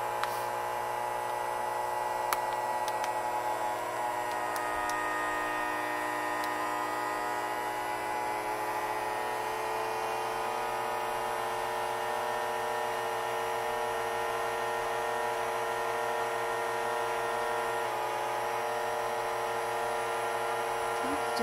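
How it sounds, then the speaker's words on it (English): A FoodSaver vacuum sealer pumps air out of a bag, giving a steady, fairly quiet motor hum and whine that runs unbroken throughout, with no talking over it. "you can see it's going to suck all the air out of it."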